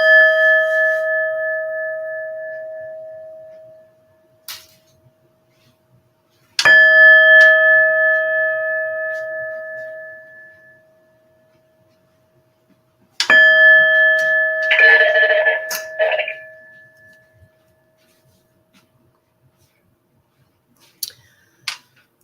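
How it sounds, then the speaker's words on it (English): Meditation chimes struck three times, each a bright ringing tone with clear overtones that decays slowly over several seconds, the third followed by a brief rustle, then near silence with faint taps. "And you just heard the sound of the chimes as a reminder to gather our thoughts."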